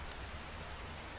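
Rain falls in the survival video game 7 Days to Die. It is a brief, quiet, even hiss of rainfall, heard alone.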